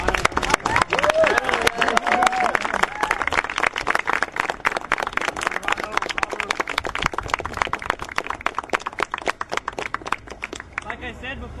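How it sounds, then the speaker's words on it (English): A rally crowd breaks into sustained applause, dense close clapping that holds steady then thins toward the end, with voices mixed in. "I just want to give a round of applause to my partner"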